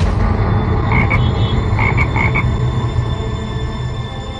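Frogs croak in short bright bursts, a pair near the start and a quick series of four in the middle, over a constant dense wash of low background noise.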